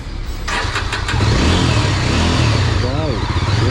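A Yezdi Adventure motorcycle engine cranks and catches, settling into a loud, steady idle close by.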